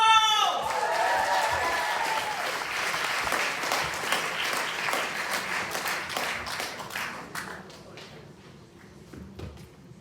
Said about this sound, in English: Let's get a roaring cheer for Elsie McDonald!